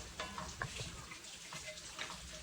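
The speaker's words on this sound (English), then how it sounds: "I've got some sausage here cooking in the skillet." Sausage cooking in a skillet for gravy gives off a continuous close sizzle and crackle, with a few brief pops.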